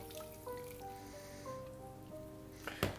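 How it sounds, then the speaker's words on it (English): Water poured into a bowl of goulash ingredients, a short wet splash and slosh near the end against a quiet room with a faint steady hum. "Okay, and add the water."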